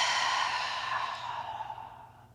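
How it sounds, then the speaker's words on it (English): A slow exhale during a breathing exercise for posture, a soft, airy breath that trails off gradually, close and alone. "chest is rising, exhale."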